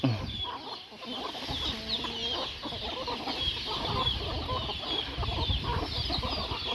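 Chickens cluck on a farm in a busy, overlapping stream of short, moderately loud calls that runs continuously through the clip, with a brief, sharper noise at the very start.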